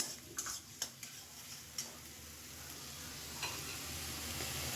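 Prawn curry base of onion, ginger and garlic paste sautéing in hot oil, a steady close sizzle with a few sharp utensil ticks and scrapes early on.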